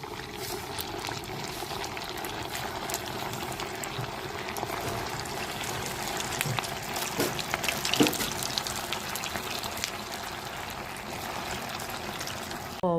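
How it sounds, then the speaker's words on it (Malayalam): Vada dropped into hot oil in a home kitchen, a continuous frothy sizzle and bubbling hiss with a few brief spatters and pops, steady and close, with no talking. "എണ്ണയിലേക്ക് നമുക്ക് വട ഓരോന്ന് ഇട്ട് കൊടുക്കാം."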